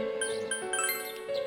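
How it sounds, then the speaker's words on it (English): A doorbell rings in the video game Persona 4, a bright chime of tinkling, ding-like tones that repeat over a sustained electronic hum, clear and close with no one talking. "Hear the doorbell ring. Someone seems to be at the door."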